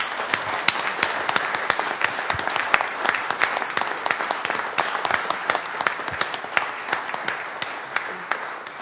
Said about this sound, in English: if we could all just give Marisha a round of applause for everything she does for us